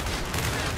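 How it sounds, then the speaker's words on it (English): Rapid gunfire rattles in a Gears of War 5 firefight, a dense, continuous burst of shots under constant battle noise, short and moderately loud. "Ow, they're shooting me."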